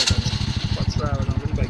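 A motorcycle engine catches and runs with a steady, rapid low putter close by, the beat holding even for under two seconds.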